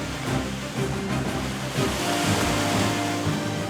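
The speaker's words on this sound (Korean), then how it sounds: "파도에 밀려." Sea waves surge and wash steadily around people swimming a race in open water, a continuous broadband roar with a low rumble that swells and eases without pause.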